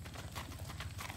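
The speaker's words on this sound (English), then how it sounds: "here's a 15-year-old black walking horse gelding." Hooves of a black Tennessee walking horse gelding, a 15-year-old natural gaited horse about 16.1 hands, clip-clop in a low steady rhythm at a sale, faint and continuous with no talk.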